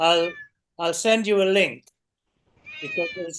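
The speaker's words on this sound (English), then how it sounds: "I hear a cat meowing." A cat meows in short harmonic calls between bursts of nearby conversation, the meows overlapping and alternating with people talking indoors.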